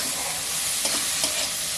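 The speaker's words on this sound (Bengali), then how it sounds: "মশলাটাকে একটু ভালো করে কষতে হবে" Spice paste for an egg kadai bhapa fries and is stirred in a pan, a dense close sizzle with a couple of brief scraping strokes, no voices.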